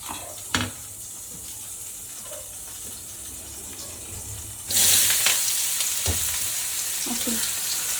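Shallots and green chilies fry in a pan in a home Tamil kitchen, a moderate sizzle with occasional clinks that swells into a louder hiss partway through, with no talking.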